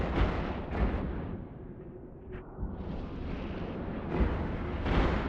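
Ship guns fire in Eve Online from a Velator-class starter corvette, dull booming bursts over a continuous rumbling space ambience, loud and close.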